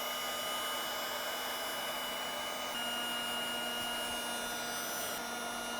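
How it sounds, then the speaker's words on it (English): Steady blowing roar of a heat gun shrinking heat shrink wire connectors on spliced wiring during an RV lithium battery upgrade, continuous and fairly loud with no talking. "So I will now heat shrink them."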